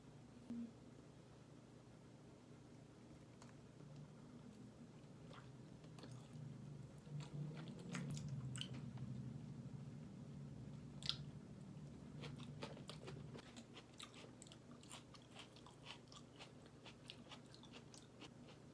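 Someone eating a homemade meal at close range, with soft bites and chewing, moist crunches and mouth sounds repeating quietly over a low room hum, with no talking.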